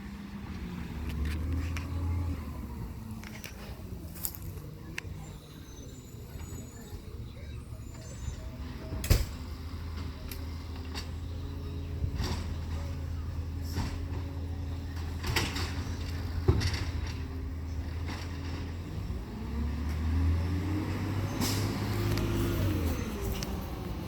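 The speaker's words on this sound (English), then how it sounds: "There's a garbage truck." A Waste Resources garbage truck idling and rumbling nearby, with a low engine drone, clanks, hisses and mechanical thumps spread through, while people talk over it.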